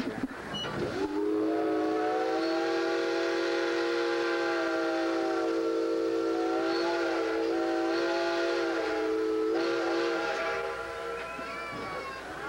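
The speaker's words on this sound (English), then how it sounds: "We'll show you how to moan a whistle." A long, loud steam locomotive whistle in Bethlehem, Pennsylvania moans continuously for about eleven seconds, its pitch wavering and bending slightly before it fades at the end.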